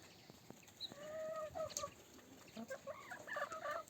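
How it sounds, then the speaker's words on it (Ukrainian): Chickens cluck and murmur softly nearby, a few short calls rising and falling over a quiet farmyard background. "Мої курки чебатурки."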